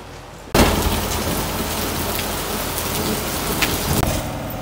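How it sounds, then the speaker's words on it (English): Heavy rain pours outside in Nigeria, a dense, steady hiss that begins abruptly and stays loud and close throughout, with scattered drops spattering on nearby surfaces. "This rain is too much."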